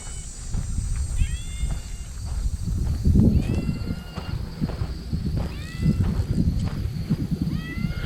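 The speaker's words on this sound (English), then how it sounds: "Do I hear cat meowing?" A kitten meows repeatedly, about five short rising cries spaced a second or two apart, over a low rumbling background.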